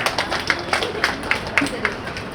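Audience applause at a Tamil debate event at a book fair in Dharmapuri, heard as a run of light, regular claps standing out over a murmuring crowd for a couple of seconds.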